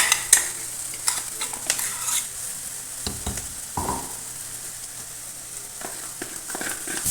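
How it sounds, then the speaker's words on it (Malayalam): Pepper powder is roasted and stirred in a pan for a special aila (mackerel) curry, producing a soft sizzle broken by quick, close scrapes and taps of the spoon. "ഇനി കുരുമുളക് പൊടി നമുക്ക് ചേർത്ത് കൊടുക്കാം. നല്ല പച്ചക്കുത്ത് മാറുന്ന വരെ നമ്മൾ നന്നായിട്ടൊന്ന് കുപ്പിച്ചെടുക്കാം."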